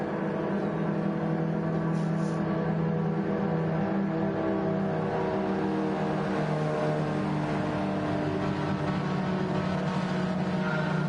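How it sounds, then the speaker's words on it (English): Steady engine drone from a mid-engine, rear-wheel-drive race car in Gran Turismo 7, holding a fairly even pitch at a constant loud level throughout with no talk over it. "I think this is a mid-engine rear-wheel drive car."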